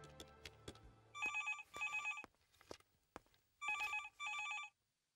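A telephone rings in two pairs of bright, trilling bursts, with soft clicks and footsteps in a quiet room between the rings.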